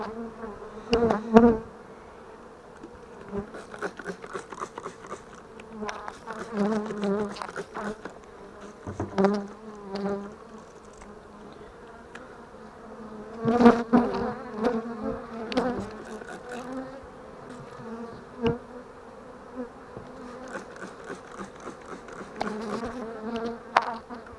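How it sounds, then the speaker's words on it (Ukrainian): Honeybees hum and buzz steadily around hive colonies being worked with a mint spray, a dense droning swarm with louder swells as the insects lift off and pass close by. "всі бджіл зараз проходжу з двох сторін, обшикую м'ятним ростом."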